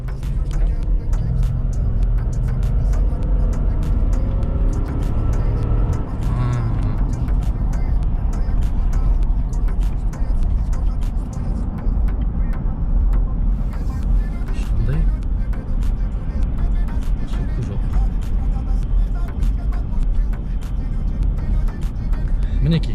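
A Lexus LX570 SUV on a test drive after diagnostics and chip tuning, its engine and road noise droning steadily throughout from inside the cabin, with someone talking over it.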